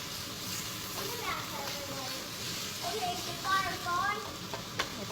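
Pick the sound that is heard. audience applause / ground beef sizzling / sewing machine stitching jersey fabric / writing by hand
ground beef sizzling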